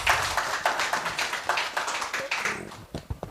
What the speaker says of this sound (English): Another round of applause for our speakers,